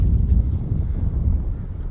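Wind gusts buffet the microphone on a tiny fishing boat out on the open ocean, a loud, low, constant roar with rushing sea texture and no talking.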